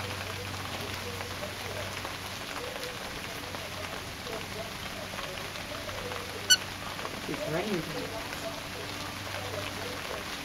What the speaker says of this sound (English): he heard the rain coming down